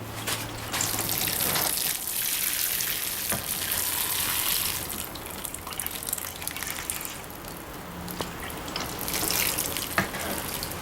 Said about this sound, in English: And we are going to water our tomato plant.